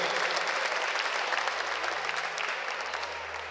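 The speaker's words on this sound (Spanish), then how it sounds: "para quien pido también un fuerte aplauso" An audience at a special legislative session for an aviation anniversary applauds opposition deputies, a broad, even wash of many hands clapping steadily throughout, tapering slightly at the close.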